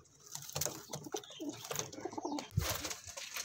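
Pigeons for sale in Amritsar coo softly and close by in a series of low, throaty calls with brief pauses, accompanied by light rustling and small knocks.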